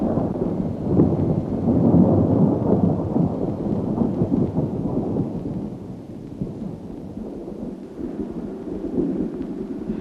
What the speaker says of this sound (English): The plenteous liquids are supplied by raging storms that last 5 minutes.